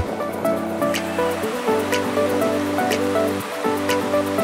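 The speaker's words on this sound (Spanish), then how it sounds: "cuyo generoso caudal se precipita alegre por su cauce" Steady rushing water with a constant broadband roar, close and loud, from the Posteruelo mountain stream tumbling down its ravine over rocks near Mulhacén, with no voices.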